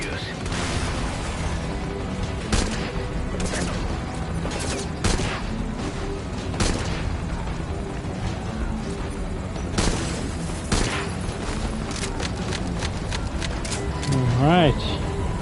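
Rifle gunfire mixed with booming underbarrel grenade launcher explosions in a Metal Gear Solid V battle, with dense repeated bursts and heavy thuds running throughout and a voice speaking over the fighting.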